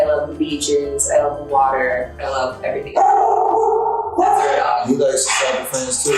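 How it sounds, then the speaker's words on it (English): A pet dog lets out several close yips and barks, including a sustained howl-like cry in the middle, while someone talks over it. "That's our dog."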